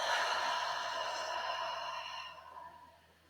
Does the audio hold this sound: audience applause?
no